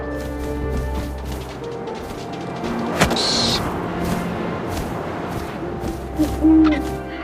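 Owl hoots in the video game What Remains of Edith Finch, heard over a steady wind-like ambient bed, with a sharp sound near the middle and a brighter call toward the end.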